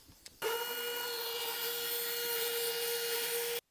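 A Bauer cordless rotary tool with a 2 amp hour battery runs at minimum speed, around 5,000 RPM: a steady, close motor whine with a buzzing tone that holds for about three seconds, then cuts off abruptly.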